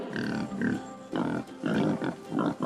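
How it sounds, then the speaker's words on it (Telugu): A wild boar grunts in a steady series of rough, throaty bursts, several grunts with short gaps between them, close and fairly loud with no talking. "అడవి పంది"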